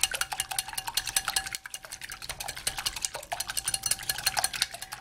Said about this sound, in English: So you wanna whisk your eggs together.